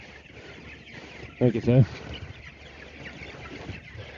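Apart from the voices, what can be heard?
chickens clucking while moved to pasture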